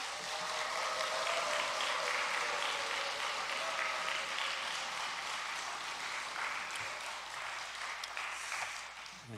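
A church congregation in Yeosu claps warmly to welcome a pastor, the applause sustained and fairly distant in a large hall, fading gently near the end.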